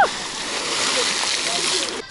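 Splashes and sloshing as people jump into an icy spring-fed bathing pool at the Shchyolokov spring, a short burst of churning water heard fairly near against background noise.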